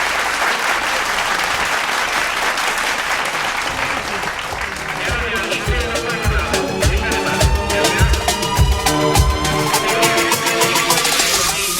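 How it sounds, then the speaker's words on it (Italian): Sustained applause from a crowd at a kart race podium ceremony, steady and full throughout, with voices mixed in and music-like tones emerging in the second half. "Un applauso, via!"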